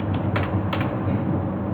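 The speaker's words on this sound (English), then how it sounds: "I am typing this." Typing on a computer keyboard, with quick clusters of soft key clicks heard close over a steady hum of background noise.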